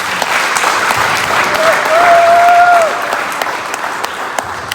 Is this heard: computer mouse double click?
no